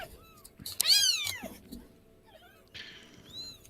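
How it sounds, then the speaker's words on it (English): Several small kittens meow in high, thin cries, one loud rising-and-falling call followed by quieter scattered mews, close by against a faint background hum. "I can hear 5 kittens"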